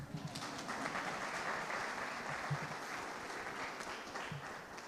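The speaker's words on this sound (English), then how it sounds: "That deserves a round of applause." A modest group at a school and hospital news conference gives a round of applause, fairly faint, scattered clapping that continues for a few seconds.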